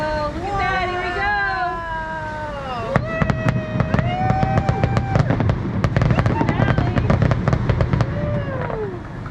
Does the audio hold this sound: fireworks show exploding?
yes